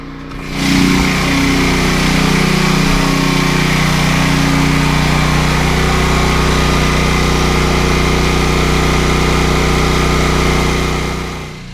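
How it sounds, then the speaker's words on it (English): A Westinghouse WGen9500DF dual fuel generator powering a house runs loud and close, a steady droning engine hum with a strong low tone that starts up and holds constant throughout, no voices. "right now the generator is running just about everything in this house"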